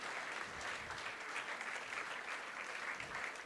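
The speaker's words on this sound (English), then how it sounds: "Amidst a good round of applause." Applause at a World Tuberculosis Day event as an honoree is felicitated by the Governor, a continuous, even round of clapping from a large audience, moderately loud and sustained without speech.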